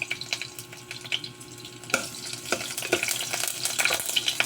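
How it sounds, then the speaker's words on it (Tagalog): Garlic sautés in a hot pan for a simple Filipino vegetable lunch dish, a close, steady sizzle broken by sharp clacks and scrapes of a stirring utensil against the pan. "at magigisa po tayo ng bawang"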